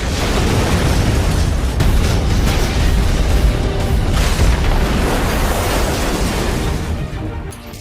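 Continuous loud rumbling blasts and booming explosions fill the soundscape of a video game set on the tropical island of Yara, a sustained dense roar with no pauses.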